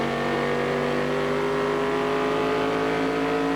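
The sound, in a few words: NASCAR race cars at New Hampshire International Speedway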